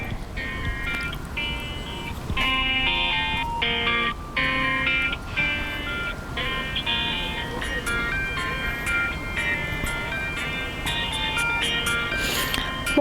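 A song playing: a soft, bright melody with sustained tonal lines over a busy, hissy background, steady and moderately quiet throughout.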